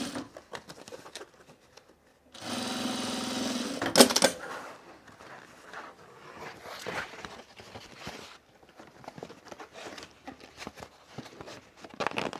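A sewing machine tacks the raw edges of a bag lining in place, a loud continuous burst of stitching for about two seconds amid quieter handling clatter and fabric rustle.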